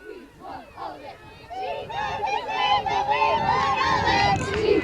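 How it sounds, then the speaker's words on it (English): Softball players cheer together in a dugout during a high school playoff game, a swelling mass of shouting and whooping voices that grows louder and stays steady near the mic. "Eagles pumped up in their dugout as they're cheering on Siobhan"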